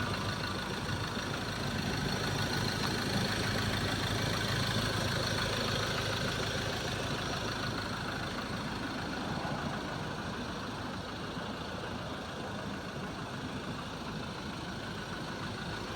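A 2013 Ford Ranger four-door with the 2.2 engine and manual gearbox idles smoothly and steadily, a continuous even engine drone with no talking over it.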